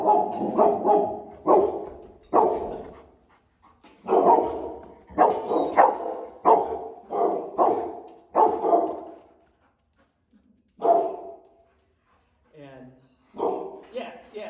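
A dog barks repeatedly at close range in short, loud bursts, mostly in clusters of two or three, with brief pauses between and a softer whimpering yip near the end; a person talks at moments between barks.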